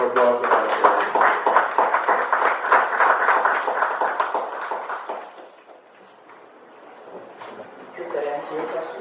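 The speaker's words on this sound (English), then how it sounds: "Round of applause." Audience at a university conversation series event giving a round of applause, brisk clapping for about five seconds that fades out, followed by quieter room sound and a voice beginning to talk.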